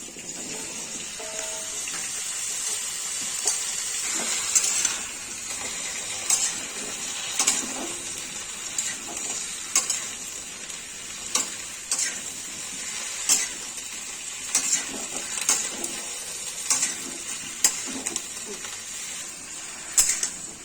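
Cauliflower frying in a pan with a steady sizzle of oil, scattered pops and crackles, close by with no talking.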